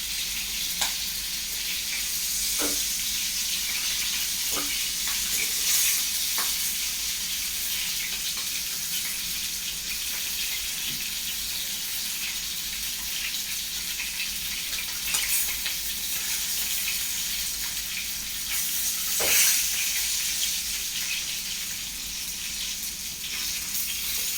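Chicken pieces fry in oil with a steady, close hiss and scattered pops and crackles that run on throughout, with no voices.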